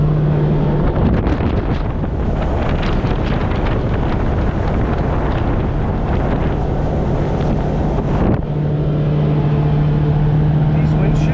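Polaris Ranger XP 1000 UTV with a Kemimoto rear windshield driving along, a constant loud engine and wind roar inside the cab on the mic, with a steady hum throughout.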